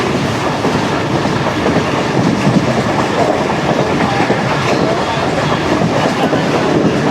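Karakoram Express rushes at high speed through Mehrabpur railway station in Pakistan, a loud, continuous roar of passing carriages with rhythmic wheel clatter close by.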